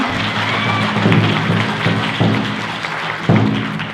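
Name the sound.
audience applause for drum group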